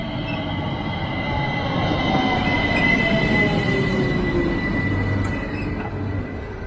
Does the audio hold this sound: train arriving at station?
yes